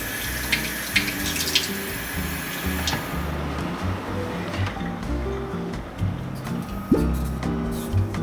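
Bathroom tap water running into a sink during morning face washing, a steady close splashing flow with small bumps and handling knocks, no talking.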